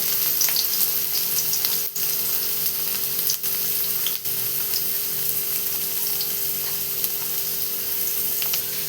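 Onion sizzles in hot oil in a kadai, a steady, close crackling fry that continues evenly throughout with a few brief breaks and no talking.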